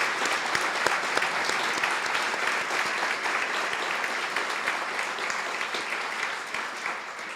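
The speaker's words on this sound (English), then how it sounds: "So let's give him one more round of applause." A breakfast audience at a business forecast event gives a sustained round of applause, many hands clapping steadily for several seconds before tapering slightly toward the end, no voices over it.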